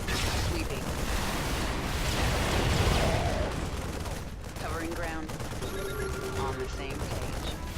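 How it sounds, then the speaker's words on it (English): Carpet bombing run by the Archangel in a video game: a dense, continuous barrage of explosions and rumbling fire, loud throughout, with talking layered over it. "Archangel is carpet bombing and you've really got to keep moving."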